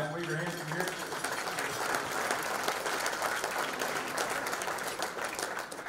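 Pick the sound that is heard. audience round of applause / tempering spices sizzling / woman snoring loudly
audience round of applause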